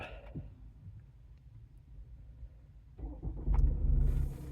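A quiet idle hum gives way to the push-button start of a 2019 Ford S-Max 2.0 EcoBlue diesel, cranking and catching, rising into a louder steady run near the end.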